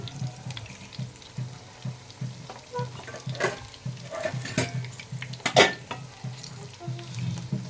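Burger tikki patties sizzle gently in oil over low heat, a steady soft frying crackle with scattered spatters and a few louder pops and scrapes near the middle.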